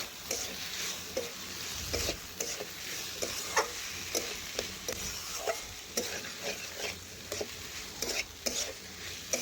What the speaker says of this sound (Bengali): এখন দেব ভেজে রাখা কাঁকরোল ও সয়াবিন। এখন সব কিছু একসাথে মিশিয়ে আবারও কিছুক্ষণ আমি রান্না করে নেব।